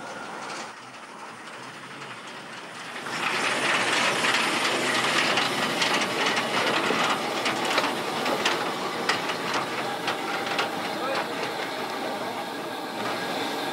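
Two steam locomotives of a double header at a depot, giving a steady, loud hiss and rumble that swells after a few seconds, with faint metallic clanks throughout and no talk.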